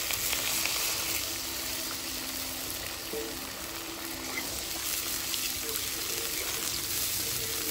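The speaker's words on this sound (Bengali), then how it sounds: "এবার আমি জল দিয়ে দিচ্ছি।" Water is poured into frying spice paste in a pan for a pomfret curry, making a steady close hiss and gush that lasts throughout.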